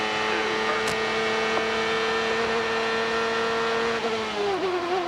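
A 1996 CART Indy race car on the street circuit in Toronto, its engine holding a loud, steady high-pitched whine that climbs slightly before a brief dip near the end, heard close and alone.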